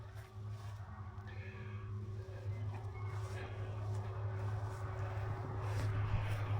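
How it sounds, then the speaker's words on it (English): Tractor driving around in a neighbouring field on a hot day, a low steady engine drone heard at a distance that swells slightly over several seconds. "There's a tractor driving around in the next field."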